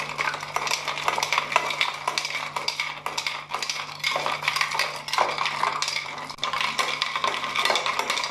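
A spoon stirs tamarind and plum sharbat in a jug, producing rapid, continuous clinking and scraping against the sides, close and fairly loud, with a faint steady hum underneath.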